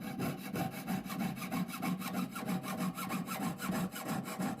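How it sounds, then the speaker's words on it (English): A jeweler's saw cutting slowly through silver for a basic band ring at a bench pin, with steady rhythmic back-and-forth rasping strokes, close and continuous with no talking. "I'm gently sawing through the metal"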